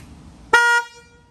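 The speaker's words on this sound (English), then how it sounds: "So I'll honk a stock horn." One short honk from the stock horn of a Can-Am Spyder F3 motorcycle, a single steady tone lasting about a quarter second, loud and close in otherwise quiet surroundings.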